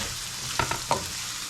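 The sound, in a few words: black beans sauteing in a pan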